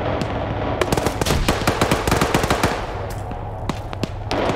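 Video game firefight in which grenades are dropped on players, with rapid bursts of automatic gunfire and sharp shots crackling densely throughout, loud and continuous with no talk.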